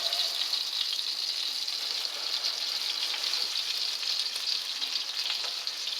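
Spring lamb leg browning in hot oil in a pan for braising, a steady, bright sizzle with crackling pops running continuously and fairly close, with no talk over it.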